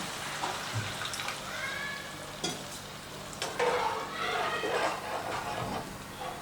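A little water splashed into paneer satay sauce in a hot pan sets off a soft, steady sizzle with stirring scrapes and a brief louder burst partway through, with a faint voice in the background.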